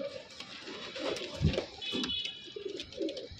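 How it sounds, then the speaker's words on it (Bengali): A pair of pure pigeons coos in soft, low, repeated phrases, close and fairly quiet, with a faint electronic hum behind them. "এক পেয়ার খাঁটি কবুতর।"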